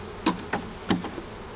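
Honey bees at an open beehive in a Quebec apiary make three or four short buzzing bursts close by, each fading quickly over a quiet background.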